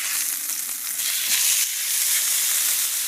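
Swordfish sizzling in a hot frying pan right after being flipped, a steady close crackling hiss with a brief louder surge midway, no talk.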